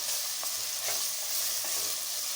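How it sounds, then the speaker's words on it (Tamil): Ginger and garlic sautéing in a pan, a loud continuous hiss of frying oil with a few soft stirring scrapes, close and without talk. "இஞ்சி பூண்டு பச்சை வாசனை போகிற வரைக்கும் நல்லா வதக்கிக்கணும்."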